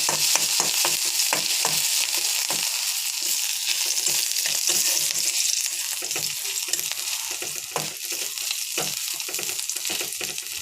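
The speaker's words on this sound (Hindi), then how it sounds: "कढ़ई रे मु किछि तेल दे देछि। तेलटा हल्का हो आसला पर सेथिरे किछि रसुण आ किछि अदा को भल भाव में भाजी देबे" Garlic and ginger frying in oil in a wok, a loud, dense, continuous crackling sizzle with frequent stirring scrapes throughout, no voices.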